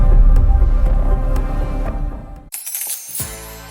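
Metallic clinks and a short rattle of coins falling, with a brief loud crash partway through, then a few settling jingles.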